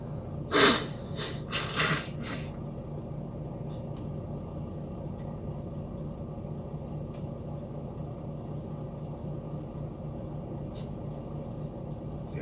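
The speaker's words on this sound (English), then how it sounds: "Blowing your nose is a natural body function." A loud, close nose blow near the start, a couple of forceful honking bursts, then quiet room noise with a steady low hum.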